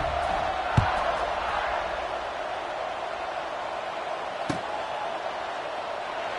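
Stadium crowd in a Madden football video game, a broad steady roar of cheering throughout, with a couple of brief thuds near the start and middle.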